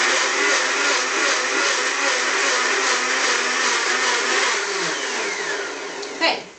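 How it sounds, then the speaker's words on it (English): A blender pulses hot water with a drop of soap to wash out leftover blended formula, a steady loud motor whir running for several seconds before cutting off abruptly near the end. "now I'm going to pulse it for a few seconds"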